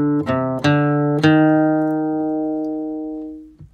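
Acoustic guitar plucks a short run of notes from the sixth measure of a bluegrass tune, three quick attacks followed by a long ringing decay, played alone.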